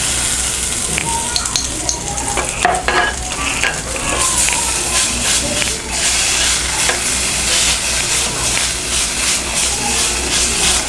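Ginger garlic paste frying and being stirred in a pan for potato methi curry, a loud, steady sizzle with scraping spoon strokes throughout, close up and uninterrupted.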